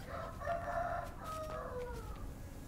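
Chickens cluck and crow in the dinosaur-and-Minecraft survival game PixARK: a run of clear, close game fowl calls heard alone over faint background game ambience.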